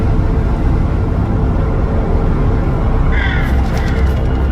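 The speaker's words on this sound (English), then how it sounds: "there's birds" Birds cawing in Little Nightmares 3: a few brief, faint caws rise near the end over a loud, steady low ambient rumble, with no speech.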